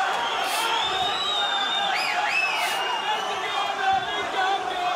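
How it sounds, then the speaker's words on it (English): A large arena crowd at a kickboxing title fight roars and cheers in a continuous, dense wash of noise, with whistles and whoops rising above it and a commentator's voice running over the top. "Crowd eating it up."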